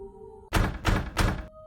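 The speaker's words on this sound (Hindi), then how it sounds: "यार, किसी ने दरवाजा खटखटाया।" Three heavy, evenly spaced knocks on a hotel room door, close and loud, standing alone in an otherwise quiet night-time scene.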